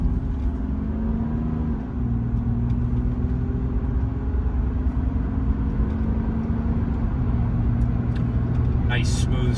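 1989 Mercedes-Benz 300E with 48,500 miles pulling away on a quiet road, its engine rumbling steadily through the gears with a brief dip at a shift, heard from inside the cabin.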